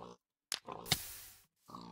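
A video game pig grunts twice in quick succession, close and clear, separated by a longer noisy rush.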